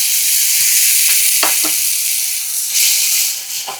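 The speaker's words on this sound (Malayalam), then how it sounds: "അതിലേക്ക് നമുക്ക് കുറച്ച് വെള്ളം ഒഴിച്ചു കൊടുക്കാം" Water hitting a hot pan, a loud, steady sizzling hiss with a few brief clinks of a utensil.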